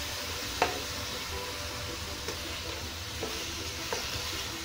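Shrimp sizzles steadily in a pan over medium-high heat, a dense continuous hiss with a few soft clicks of stirring, close and moderately loud with no talking.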